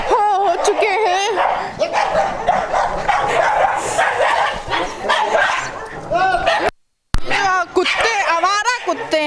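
Stray dogs in a residential neighbourhood of Old Haiderganj, Lucknow, bark, yip and whimper while fighting, a loud, frantic burst of overlapping canine cries close by, with a brief dropout near the end.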